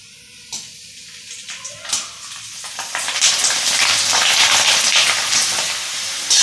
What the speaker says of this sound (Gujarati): અહીંયા આપણું તેલ ગરમ થઈ ગયું છે અને આપણે ભૂંગળા તળી લેશું